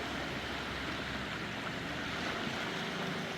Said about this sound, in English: enjoying the peaceful sound of the waves coming in.